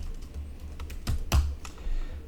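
Typing on a computer keyboard while entering text into a Drupal 8 Search API setup: a short run of close, crisp key clicks with a couple of louder taps near the end.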